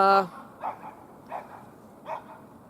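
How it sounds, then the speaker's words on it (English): Small dogs yapping outdoors, three or four short, fairly faint barks spaced apart at a distance, following a brief burst of voice at the start. "Small annoying dogs yapping."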